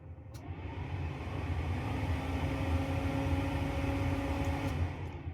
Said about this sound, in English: Then you can control the fan speed.